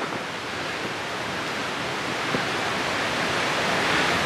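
A big waterfall in Forest Falls Canyon in the San Gorgonio range roars as a steady, dense wash of falling water, loud and unbroken with no voices.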